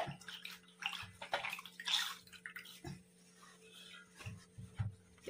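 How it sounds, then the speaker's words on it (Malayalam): A stained cloth is rinsed by hand in a bowl of water, with close, intermittent sloshes and splashes coming in irregular bursts and short quiet gaps between them. "ഇനി ഒന്ന് നമുക്ക് കഴുകിയെടുക്കാം. എൻ്റെ ഒരു പാത്രത്തിൽ കുറച്ച് വെള്ളം എടുത്ത് വെച്ചിട്ടുണ്ട്."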